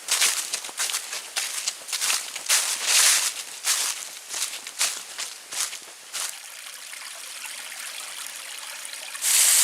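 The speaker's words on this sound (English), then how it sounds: "I've come up to another small waterfall." A small waterfall on a forest trail at Pictured Rocks, Michigan, in November gives a rushing splash of water that is louder at first, with crunching footsteps nearby, then settles into a quieter steady trickle.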